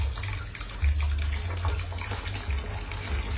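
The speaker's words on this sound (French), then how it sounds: "l'eau qui sort du robinet" Tap water running from a faucet in Brazzaville, a loud steady gushing stream that continues without pause, alone with no voices.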